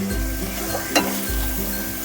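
Whole cauliflower stirred with spices in a pan over low gas, giving a soft, steady sizzle with a brief scrape of the spoon midway and no talking.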